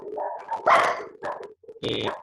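A pet dog barks in a series of sharp, close barks with brief pauses between them, loud and alone without speech.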